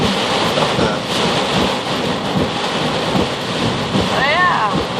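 Heavy rain roars in a dense, continuous wash during an April rain storm, with thunder rumbling underneath and a voice briefly heard over it.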